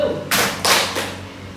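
A classroom of students claps in unison during a counting clap game, giving three loud, crisp group claps at an even pace that fade into a short echo.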